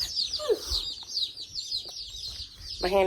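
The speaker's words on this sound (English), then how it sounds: "now the chicks are here" Newly arrived hatchery chicks peep constantly in high, rapid overlapping chirps from inside a shipping box, close and lively, with brief soft talk from a person at the start and end.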